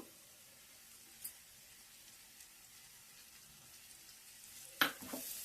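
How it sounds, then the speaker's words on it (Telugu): Green chillies and coriander fry in oil for a mutton mango curry, giving a faint, steady sizzle broken by a couple of soft utensil knocks and a sharper clatter near the end. "కొంచెం బాగా 1 నిమిషం అలాగా మగ్గని నూనెలో వేగితే బాగుంటుంది అన్నమాట."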